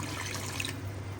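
Water pours steadily into a pot of chicken aloo gosht cooking in ghee with potatoes, a brief close, even splashing rush that stops partway through.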